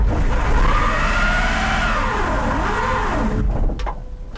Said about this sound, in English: just thought I'd show you how quick and easy it is to do a burnout